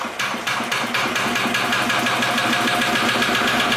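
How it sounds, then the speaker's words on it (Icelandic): Lighthouse keeper's generator engine running steadily, a loud, close mechanical chugging with a rapid regular knock throughout, no talk over it. "svona fer vélinn í gang og rafmagni fer."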